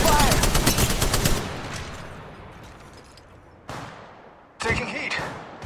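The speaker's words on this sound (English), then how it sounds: "Taking fire!" Rapid automatic gunfire in the mobile battle royale game Apex Legends Mobile, a dense burst of shots up front that fades out, followed by two shorter sharp bursts later, with a voice briefly talking.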